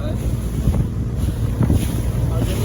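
Steady wind gusting over the open sea aboard a small boat on a day trip, with rumbling wind buffeting and waves washing along the hull, continuous and fairly loud.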